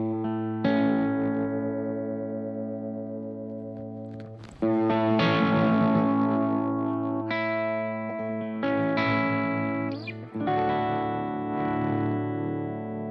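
An electric guitar played through a Walrus Audio effects pedal rings out in sustained, shimmering distorted chords, with several strummed changes each left to ring and decay, loud and close with no talk.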